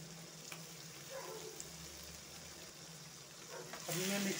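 Mutton liver (kaleji) frying in a pan makes a soft, steady sizzle throughout, quiet and close, swelling slightly louder near the end.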